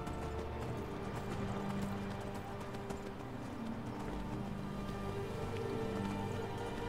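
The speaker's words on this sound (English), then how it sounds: "Look at that horse galloping up steps" A horse galloping up stone steps in the video game Skyrim, continuous rapid hoof clip-clop under a dense ambient game soundscape.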